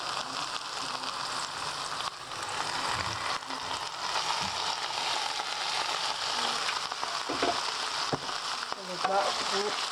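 Green vegetables fry in a knob of butter in a pan, a steady soft sizzle with faint crackles that runs the whole time at a close, even level.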